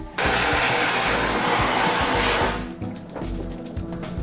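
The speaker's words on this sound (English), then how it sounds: "We're gonna throw it in the vapor hone." A vapor hone blasting an aluminum part gives a loud hissing blast of pressurized spray for a couple of seconds, then drops to a lower rumbling hiss.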